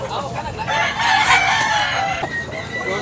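A gamecock crows at a cockfight venue in Tabunok, Cebu, a close, loud, drawn-out crow over the busy clucking and rustle of other fowl nearby.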